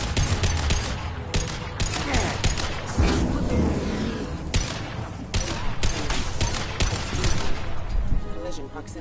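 Burst-fire gun shooting in Mass Effect 2 crackles through repeated sharp volleys across the whole stretch, loud and close, with game noise and effects mixed in.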